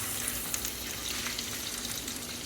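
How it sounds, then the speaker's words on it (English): Hamburger steak patties fry in a skillet with a dense, even sizzle that crackles continuously and close up, with no voices over it. "I'm going to flip these and we're going to make the gravy with the meat in there and that way it continues to cook"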